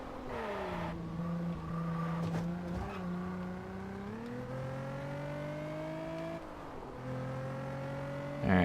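A car engine in the video game Test Drive Unlimited revs and shifts through gears with rising and falling tones, steady and close, with faint tire noise.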